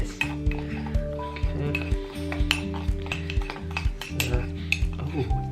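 A spoon stirs gingerbread mixture in a mug, making repeated close clinks and scrapes against the sides in an uneven rhythm, while someone speaks briefly.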